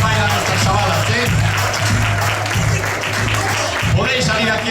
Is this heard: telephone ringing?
no